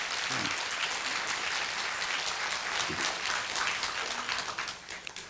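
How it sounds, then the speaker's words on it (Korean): A group of women in an audience claps for Jeon Ok-ju during a talk about the Gwangju uprising. Dense, steady hand clapping lasts about five seconds, then thins out toward the end. "여인들끼리 한번 전옥주 여인 손뼉 한번 쳐줘 보실까요?"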